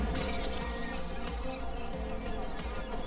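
A glass bowl shatters in I am Fish, heard as a faint run of sharp, scattered clinks and breaking-glass crackles with no talking.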